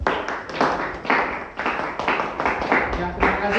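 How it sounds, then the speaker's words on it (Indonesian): Group of people clapping in a room after a cooking presentation, a loose rhythmic burst of nearby hand claps with voices talking over it. "Oke, tepuk tangan dong"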